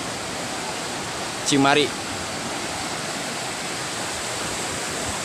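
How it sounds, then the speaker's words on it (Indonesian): A strongly rushing river near Kampung Sunda, a village in West Java, pours out a steady broadband roar of water throughout, with a short spoken word rising briefly over it near the start. "Air yang sangat deras."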